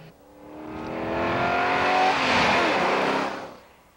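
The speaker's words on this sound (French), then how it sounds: "Elle est munie d'un moteur Chevrolet 8 cylindres" Kundalini car fitted with a Chevrolet eight-cylinder engine, revving and accelerating close by: a loud, rising engine roar that swells over about four seconds and then fades.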